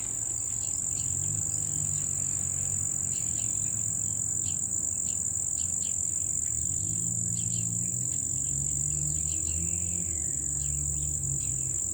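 Steady, dense outdoor cricket chirping fills the scene throughout, with a high continuous insect trill over soft low rumbling and faint scattered chirps, and no voices.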